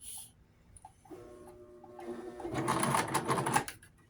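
A sewing machine stitches through denim while a skirt and jeans are turned into flares, starting with faint slow clicks and then speeding into a steady, close whirring hum that stops abruptly.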